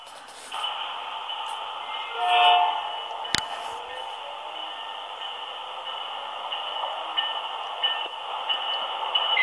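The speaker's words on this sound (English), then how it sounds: "And that train sounds like a South Shore." A steady, sustained South Shore train horn chord holds for several seconds, fairly loud and continuous, with a brief click partway through.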